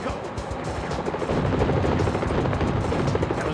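Helicopter rotor thump mixed with rapid gunfire bursts in the N64 game Mission: Impossible, loud and dense throughout, with sharper shots early then a steady clattering barrage.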